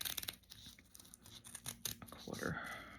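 Scissors snipping through recycled book cover paper, a few crisp close cuts and rustles at the table, with a person talking over them.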